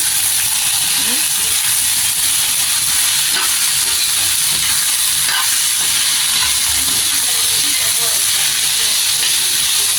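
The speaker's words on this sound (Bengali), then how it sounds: "ভাজিটা হয়ে গেছে, এখন আমি ভাজিটা নামিয়ে ফেলবো।" Okra bhaji fries and gets stirred in a pan, giving a loud, constant sizzling hiss with scraping stir strokes through it and faint speech in the background.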